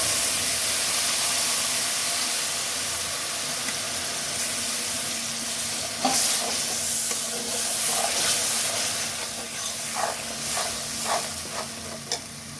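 Ginger, onion and garlic paste stir-fried with browned onions in a pan for a crab dish: a continuous loud sizzle and hiss, with spatula scrapes and clinks growing toward the end, no talk.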